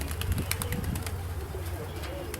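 A flock of white racing pigeons, old birds flying near the coops, beat their wings in quick, soft, irregular bursts of flapping over a steady low outdoor rumble.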